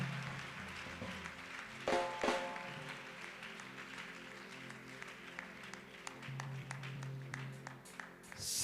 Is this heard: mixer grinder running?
no